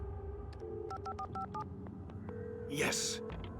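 Telephone keypad tones beep in a quick irregular sequence as a number is dialed on a phone in the Alan Wake Remastered video game, followed by a brief louder burst, with faint game ambience underneath.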